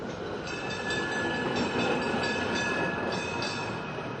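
A train runs on rails near Lonquén station in Chile, a steady rolling rumble with faint rhythmic wheel clatter and a thin metallic whine held throughout, with no voices.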